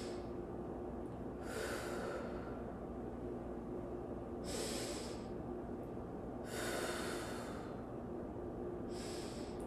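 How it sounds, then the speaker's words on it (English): Slow, deep breaths during a yoga stretch, with three or four long, airy exhales spaced a few seconds apart over a steady background hum. "So you're gonna breathe."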